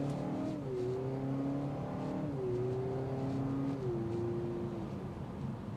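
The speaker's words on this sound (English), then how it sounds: "You get a kind of cool exhaust note that filters in." A four-cylinder hybrid car engine accelerates steadily, pitch climbing through a few gear shifts with brief drops between, exhaust note heard from inside the cabin at moderate loudness.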